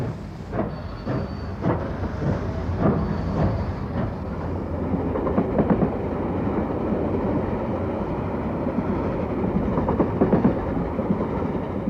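Steam locomotive 3801 hauls a train on the new standard gauge line to Port Pirie, with a steady heavy rumble of wheels on rails and rhythmic chuffing throughout.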